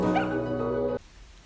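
A puppy's bark and whimper from a Budweiser commercial, a single loud harmonic yelp held for about a second before cutting off to near silence.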